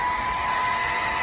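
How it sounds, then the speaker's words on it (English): A hairdryer pointed upward blows at full power, giving a loud, steady close-up whirring roar with a constant motor tone throughout. "point your hairdryer upwards and turn it on"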